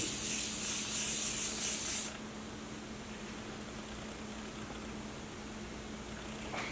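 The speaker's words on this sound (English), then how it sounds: "I'm going to be spraying my face with the Morphe Continuous Setting Mist" Morphe Continuous Setting Mist hisses from a spray bottle onto a face in a fine, close, steady burst lasting about two seconds, then gives way to quiet room tone.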